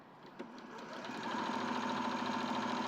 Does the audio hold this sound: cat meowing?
no